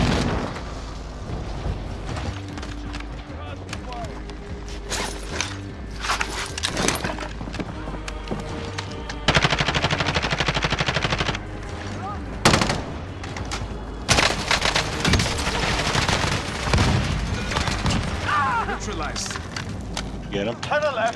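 Automatic and burst gunfire from Call of Duty: Modern Warfare multiplayer, dense and loud throughout with occasional booms, while players talk over the fighting.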